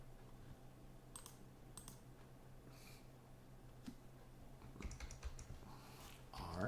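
Quiet typing on a computer keyboard, a few scattered key clicks followed by a quicker burst of keystrokes near the end, close by with no talk.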